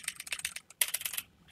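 Rapid, loud clacking of computer keyboard keys in two bursts of typing separated by a brief pause, close by with no voices.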